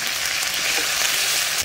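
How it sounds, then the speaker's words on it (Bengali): Onion frying in a pan with ginger, garlic, chilli and ground cumin-coriander paste added, a steady close sizzle with no talk over it. "পেঁয়াজটা একটু লাল লাল করে ভেজে নিলাম"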